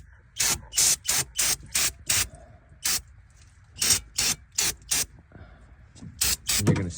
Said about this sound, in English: you're gonna spray down the perimeter of where this timing cover gasket sits